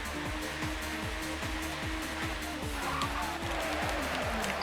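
Oversteering touring car spinning out in the TOCA Touring Car Championship game, a revving engine note stepping through repeated rising and falling pitch sweeps over broadband tire and road noise, steady and close.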